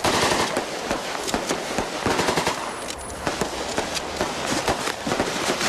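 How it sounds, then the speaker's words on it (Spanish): Dense, rapid gunfire crackles nonstop for several seconds in a staged audio-drama scene of shooting from a window at upper floors, loud and continuous with overlapping bursts. "Y disparando de la ventana a los pisos altos."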